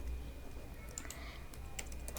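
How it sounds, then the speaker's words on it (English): Keystrokes on a computer keyboard while an email address and account details are typed into a PHP and MySQL e-commerce site form, a steady run of quick close clicks with a few louder taps and no talking. "Let me just write here Seema"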